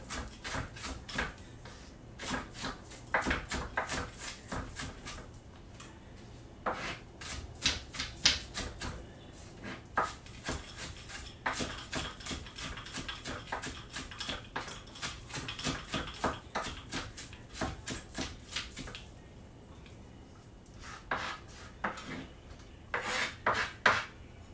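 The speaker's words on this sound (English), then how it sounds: "this is really the right knife to be chopping this with" A knife chopping onion and garlic on a cutting board, with rapid bursts of sharp, close taps in quick rhythmic runs separated by short pauses.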